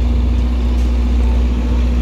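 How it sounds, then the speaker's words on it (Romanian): An engine runs with a loud, steady low hum and constant drone, unchanging throughout and heard alone. "Lucrează motorul acesta."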